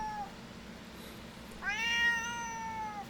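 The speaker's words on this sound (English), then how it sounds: "I miss that annoying just meow just constantly." A domestic cat meows twice, a short cry followed by a longer drawn-out meow, close by against a quiet steady room hum.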